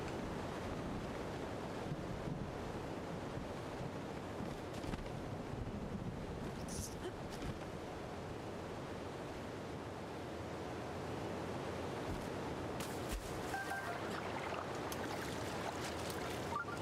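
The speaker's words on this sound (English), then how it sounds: "I think it's this waterfall." Steady rushing waterfall in the video game Zelda: Breath of the Wild, a continuous broad wash of falling water at even loudness throughout, with no voices.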